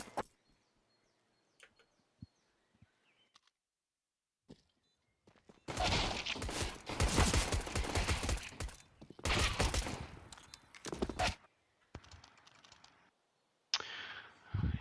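Gunfire in a Counter-Strike match on Inferno, bursts of rapid shots in dense clusters between quiet gaps, with sharp single taps at the start and end.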